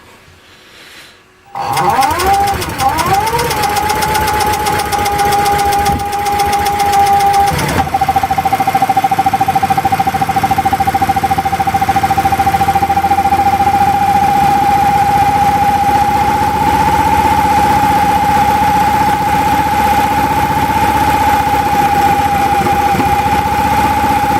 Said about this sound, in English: So I'll try and start it up again and show you that you can actually take the choke off a fair bit when it's running under quite a bit of load.